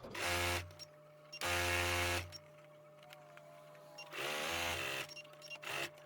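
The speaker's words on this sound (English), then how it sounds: "So we're going to sew that side to that one, this side to this one." Sewing machine running in three long bursts of rapid stitching separated by pauses, stitching the side seams of a tulip bag and locking the stitches at each end; close and steady mechanical whir with no talk.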